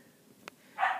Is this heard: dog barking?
yes